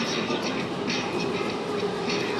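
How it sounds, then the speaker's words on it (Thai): A fast Thai electric train rushes past close by, its steady, loud roar of wheels and rail noise filling the short moment with no pause. "วู้รถไฟฟ้าวิ่งเร็วมากเลยนะครับ"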